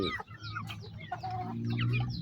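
Chickens cluck repeatedly at close range during evening feeding on a small farm, in short, busy bursts over a low steady background hum.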